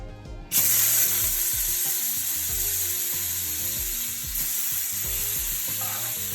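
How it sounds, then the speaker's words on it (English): Onion, sweet pepper and tomato hit a shrimp curry with a sudden loud sizzle that settles into steady frying and crackling, with stirring scrapes and no talk. "At this point, I'm going to go ahead and add my veggie."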